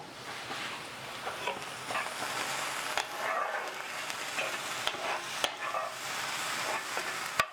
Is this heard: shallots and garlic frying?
yes